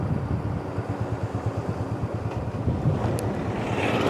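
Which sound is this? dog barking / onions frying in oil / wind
wind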